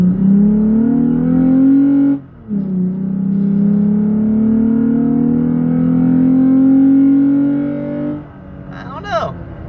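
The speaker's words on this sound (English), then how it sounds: "Acceleration and let go." Lifted 2020 Toyota Tacoma engine accelerating from a stop, a loud steady drone rising in pitch, with a brief dip as it shifts, then easing off near the end as a voice briefly speaks.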